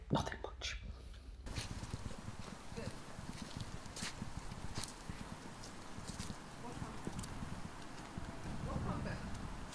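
A horse's hooves clip-clop on a road, faint and irregular, under quiet voices talking nearby.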